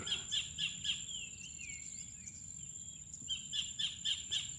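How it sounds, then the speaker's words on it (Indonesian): Repeated high, sharp kingfisher calls in quick runs at a village mangrove in the morning, with chirping insects and birdsong filling the background; no voices. "suara burung kingfisher"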